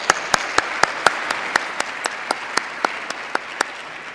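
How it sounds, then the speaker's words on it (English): An audience at a conference gives the translators a quick round of applause, a dense wash of clapping with a few sharp, regularly spaced louder claps standing out up close. "let's just give them a quick round of applause"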